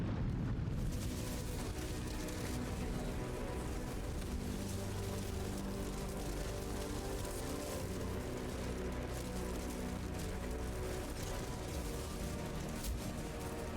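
Enemies exploding in a mage-build action game, a continuous loud rumble of overlapping blasts and crackling bursts with no clear gaps between them.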